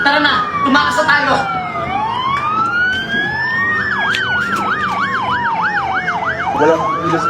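A police car siren wails loud and close, sweeping slowly up and down before switching to a rapid yelp, with people shouting over it.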